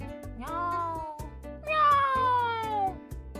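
Two drawn-out cat meows from the video game Dandelion, each sliding downward in pitch, sounding close and clear over gentle background game music.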